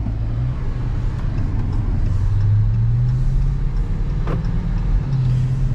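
A 2021 Dodge Charger 5.7 Daytona edition drives in sport mode, giving a steady, deep engine rumble and road drone throughout, with no speech.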